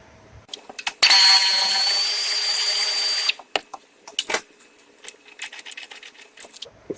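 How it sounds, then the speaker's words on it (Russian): A power tool spins off the shock absorber mount nut on a Renault front suspension, one steady whirring burst of about two seconds, followed by scattered clicks and metallic handling noises. "Поэтому откручиваем гайку и потом снова наживляем на несколько витков чисто рукой."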